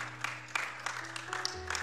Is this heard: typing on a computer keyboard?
no